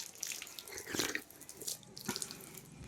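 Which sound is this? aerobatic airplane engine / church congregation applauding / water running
water running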